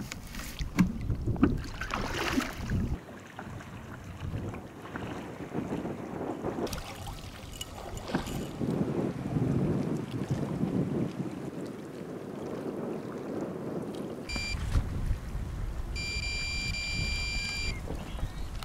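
Small boat heading out over a lake with a carp fishing rig, water sloshing and rushing against the hull under gusty wind noise, with a few knocks and a brief beeping near the end.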